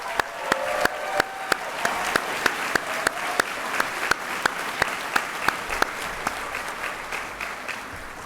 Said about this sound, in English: Let's give one more round of applause for our Masters of Science recipients.